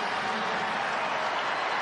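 Baseball crowd at the ballpark in Philadelphia, a steady roar of cheering and applause, loud and continuous with no break.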